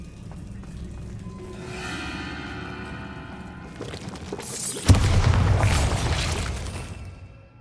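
A Bombarda blasting spell goes off in a video game. A rising magical whoosh builds for several seconds, then a loud, close boom bursts out and dies away in a long, rumbling roar.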